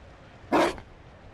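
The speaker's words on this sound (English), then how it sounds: "You found a dog?" A single short Mabari war dog bark in the Dragon Age Inquisition fantasy game, one sharp burst standing alone against quiet background ambience.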